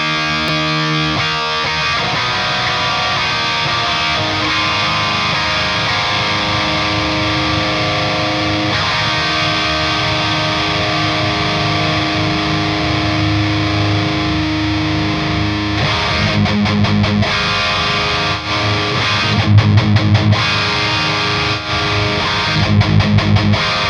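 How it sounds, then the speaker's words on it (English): Electric guitar power chords played through a Kemper MK2 amp profile with high-gain distortion, avoiding low chugs, ring out loud and sustained throughout, with heavier strummed accents near the end. "I'm just going to play a couple power chords, but I'm going to avoid low chugs and lower notes"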